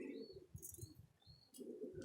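A pigeon, a prized high-flyer hen, gives soft low coos close by, with brief chirps and a flutter of wings in a quiet setting.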